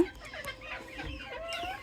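A laying hen clucks close by in a short burst of uneven, throaty clucks and squawks, with faint background noise.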